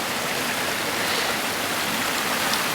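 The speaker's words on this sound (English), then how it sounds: "And this stream actually, it's quite long." A long stream flowing through open landscape gives a steady, close, broadband rush of water without pause or change, with no voices.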